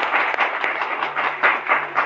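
An audience claps steadily in applause, a dense, continuous patter of many hands that stays fairly loud and close for a couple of seconds with no one speaking.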